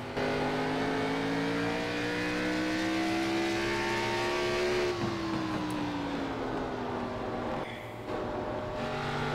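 At Thompson, a small, narrow one-groove racetrack, a race car heading out onto the track holds a steady engine drone that rises slowly, then falls away and fades slightly toward the end.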